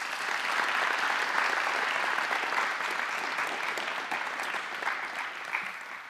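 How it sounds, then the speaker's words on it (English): An audience applauds the priest after a lecture on Augustine, a sustained, moderately distant round of clapping that holds steady and thins slightly toward the end. "One more round of applause for Father"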